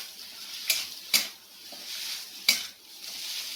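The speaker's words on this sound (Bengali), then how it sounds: "তেল দিয়ে ভালো করে ফ্রাই করে নিই।" Pointed gourd frying in hot oil for a homestyle chop, a steady soft sizzle with three sharp clinks of a spoon or spatula against the pan, close and alone without talk.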